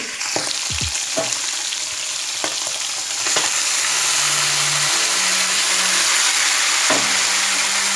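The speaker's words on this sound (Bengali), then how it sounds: "আমি এবার লাইয়ের টুকরোগুলো অ্যাড করে দিচ্ছি" Pieces of lai (mustard greens) dropped into a hot pan, frying with a steady loud sizzle and a few stir knocks near the start, with faint low engine-like hum in the background.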